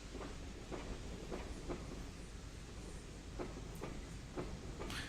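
A K1 steam train running on the Hamilton Branch Line, heard faintly from on board as a steady rumble with regular clickety-clack wheel beats over rail joints.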